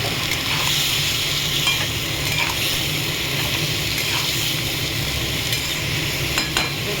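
Cauliflower curry with peas sautéing in a pan, a loud continuous sizzle with occasional spatula strokes, close and steady throughout.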